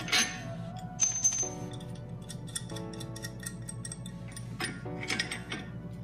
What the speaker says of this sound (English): We're gonna take our two wrenches here, stick them on here, and we're gonna pry this thing apart.